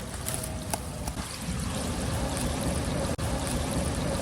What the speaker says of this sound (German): In beiden Rohren fließt Wasser.